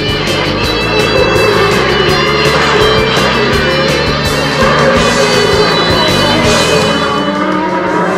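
Race cars thunder past at speed in a vintage racing event as Cooper Jr. and Mario Andretti battle for the lead down a hill, engines roaring loud and continuous with no talk.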